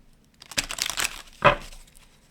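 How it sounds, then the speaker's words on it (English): Tarot cards being shuffled in a few quick riffling bursts, close and crisp, with short pauses between them and no talking. "All right, one last shuffle."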